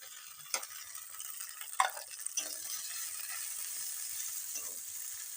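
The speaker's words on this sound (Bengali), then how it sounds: "এবার আদা বাটাও দিয়ে দিলাম" Ginger paste added to yogurt chicken frying in a pan, giving a steady hissing sizzle with a few sharp clicks and scrapes of stirring, close and continuous without talk.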